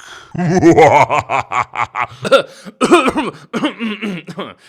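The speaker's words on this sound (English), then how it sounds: "I just had to clear my throat" A close voice makes a series of guttural throat-clearing sounds and rough vocal bursts, broken into several short chunks with brief pauses.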